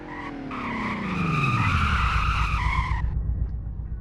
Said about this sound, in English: Braking did better than the other car, but it's still not the greatest